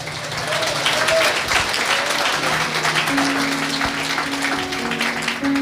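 Church congregation applauding at a Quechua-language service, a steady dense wash of clapping filling the whole stretch with a few voices and tones faintly underneath.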